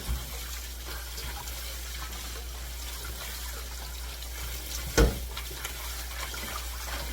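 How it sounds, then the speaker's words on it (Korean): Wild water dropwort is rinsed under a running tap, a steady soft wash of flowing water with one brief louder splash or knock partway through. "깨끗하게 한번 씻어 보겠습니다"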